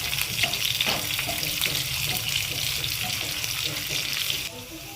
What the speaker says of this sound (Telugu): పచ్చి శనగపప్పు, ఇది కూడా కొంచెం బాగా వేగనిద్దాం